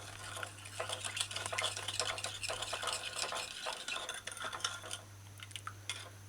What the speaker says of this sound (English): so you just stir it in, and this is homemade barbecue sauce